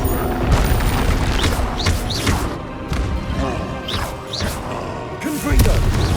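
Confringo fire spell blasts in Hogwarts Legacy on PS5: repeated heavy booms and crashing impacts in close succession during battle, with character voices and grunts mixed in.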